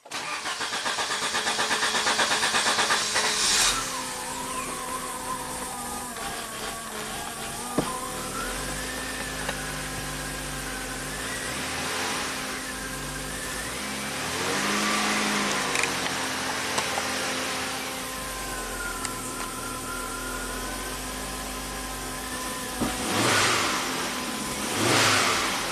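An Audi turbo car with low boost power cranks on a cold start, catches and revs up and down several times before settling into a steady idle, loud and close with no talking.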